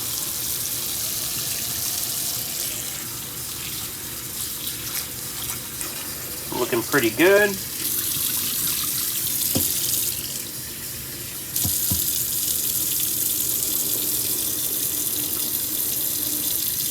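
Tap water running into a sink container to rinse two dozen egg shells, a steady hissing flow with a brief splashy burst midway and a short spoken remark over it.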